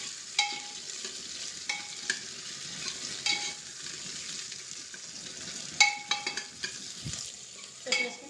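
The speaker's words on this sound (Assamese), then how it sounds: "আগত পিঁয়াজখিনি ধুনীয়াকৈ ভাজি লওঁ" Onions fry in hot oil for a goat mutton curry, a soft continuous sizzle broken by scattered scrapes and clinks of a spoon stirring in the pan, close but quiet.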